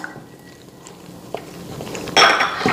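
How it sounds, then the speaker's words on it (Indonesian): Bread dough of flour, sugar, bread improver, softener, yeast and milk being stirred in a bowl, with soft scraping, light clinks of utensil against the bowl and a louder clattering scrape at the end. "Diaduk dan masukkan susunya semuanya."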